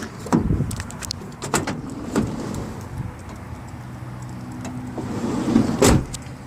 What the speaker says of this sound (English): operate like they should, nice and smooth